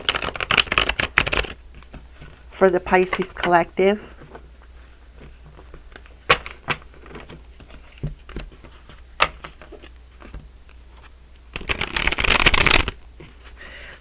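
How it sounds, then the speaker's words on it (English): Cards are shuffled in a few quick riffling bursts, crisp and close, with someone speaking briefly between them. "We're going to give these a nice quick shuffle here"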